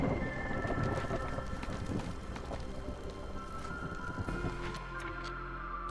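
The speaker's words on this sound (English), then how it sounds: "Storm's rolling in." A thunderstorm with rain in the settlement-building game Against the Storm, a dense steady hiss of rainfall with low rumbling thunder and scattered clicking sounds throughout, no voices.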